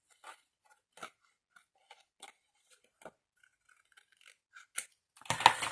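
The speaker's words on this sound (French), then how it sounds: "Bécassine, je suis avec des tout petits ciseaux miniatures." Tiny miniature scissors snip paper quietly in a series of short, crisp cuts spaced irregularly, ending with a louder rustle of paper being handled up close.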